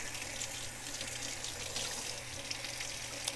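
Water from a sink tap runs steadily to refill the soaking tray for a 1,000/6,000 grit whetstone used to sharpen a chef knife, a constant close hiss with no talking.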